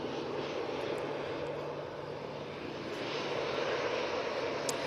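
An EasyJet airliner at Manchester Airport produces a steady, moderately distant jet engine drone with a low hum underneath, continuous and unaccompanied by voices.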